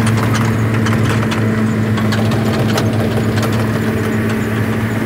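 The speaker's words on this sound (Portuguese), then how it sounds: "Olha o He-Man lá dentro do trator" Tractor engine running steadily during a sugarcane harvest, a loud continuous drone with a strong low hum and mechanical clatter throughout, no talk.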